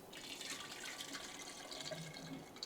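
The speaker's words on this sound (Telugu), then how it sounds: "సో మనం వాటర్ యాడ్ చేద్దాం కావాల్సినంత." Water poured into a clay pot holding Ugadi pachadi ingredients, a steady splashing, trickling flow lasting throughout at close range with no talk.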